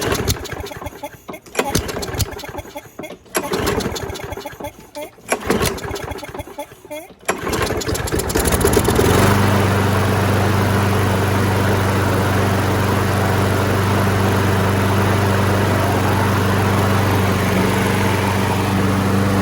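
A 2009 Craftsman self-propelled lawn mower with a freshly rebuilt carburetor takes several pull-start attempts that sputter and rattle, then the engine catches and runs at a loud, steady drone close by. Voices can be heard around the starting attempts.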